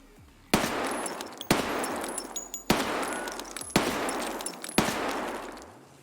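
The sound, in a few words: UMP gunfire in the video game Escape from Tarkov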